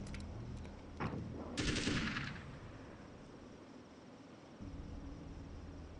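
An assault rifle fires in Alan Wake's American Nightmare: two sharp bursts of shots crack out near the start, the second louder, then fade into a low ambient hum with insect-like chirping.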